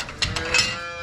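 A dairy cow lets out a short, close moo in a milking shed, heard alone against steady background noise.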